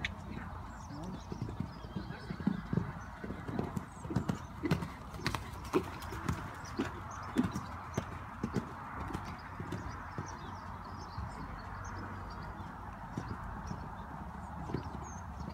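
Horse hooves clip-clop across an outdoor arena during an 85cm show jumping qualifier round, a steady uneven patter of footfalls close by over a continuous background hum.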